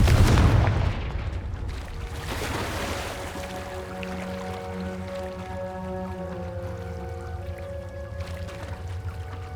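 A Confringo spell explosion in Hogwarts Legacy bursts with a loud boom at the start, then rumbles and crackles away into a lingering tonal ringing.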